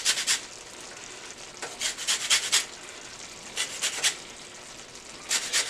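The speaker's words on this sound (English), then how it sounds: "So remember, always zest and then squeeze." A lemon being zested on a grater for shrimp scampi, heard as repeated raspy scraping strokes in short bursts, close and fairly quiet, with no talking.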